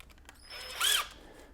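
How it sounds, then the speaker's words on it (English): A power drill briefly drives a screw into a Link EQ duty mag carrier, with a short rising and falling whir up close and quiet handling clicks around it. "then I'm going to put in my first screw and just loosely tighten it, then put in my second screw."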